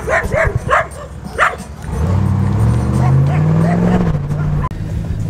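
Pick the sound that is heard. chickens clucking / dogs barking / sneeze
dogs barking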